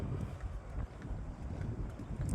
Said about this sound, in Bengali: প্রচণ্ড হিমেল হাওয়া